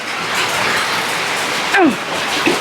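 Rain falls steadily on a home vegetable garden during harvest, a soft continuous patter with a few brief bird chirps over it.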